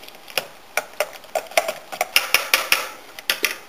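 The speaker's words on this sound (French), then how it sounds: "je vais mélanger au fouet d'abord" A whisk beats a mixture in a bowl, producing quick, uneven metallic clinks and taps against the bowl's side, close and fairly loud with no talking.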